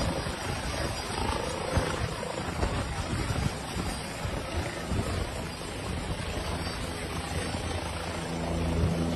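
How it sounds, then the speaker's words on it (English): A helicopter sits with its rotor still running, a loud, dense, continuous roar of engine and blade wash mixed with wind buffeting the microphone, holding steady throughout with no speech. "You see the chopper still on and shit."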